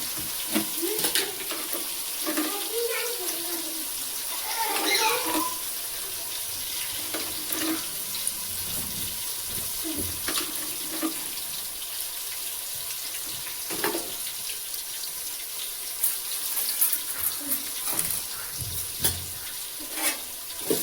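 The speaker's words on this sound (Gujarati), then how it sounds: "અને હવે આપણે હલાવી દઈશું." Food frying in a pan with turmeric and salt is stirred in a village kitchen, giving a close, steady sizzle with scraping spoon strokes and watery bubbling, intermittent clatters throughout.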